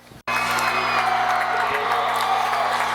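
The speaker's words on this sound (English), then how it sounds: "The crowd is getting loud." A high school football crowd at Muscatine, Iowa, facing North Scott of Eldridge, bursts into loud sustained cheering and whooping after a brief silence, a dense roar of many voices filling the stands.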